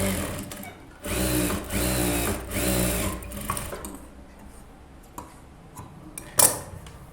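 A sewing machine stitches a blouse in bursts, its close rapid mechanical rattle running for a few seconds, stopping, starting again, then giving way to quieter handling clicks and a sharp knock near the end.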